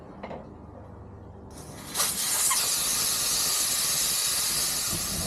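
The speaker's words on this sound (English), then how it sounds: "Alright, now the tire's deflated," Sharp, loud hiss of air rushing from a tire with its valve core pulled, starting suddenly about two seconds in and holding steady as the tire deflates, close and alone.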